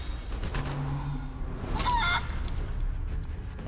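A chicken clucks in the fantasy role-playing video game Divinity: Original Sin 2, giving a few short clucks over steady game background sound.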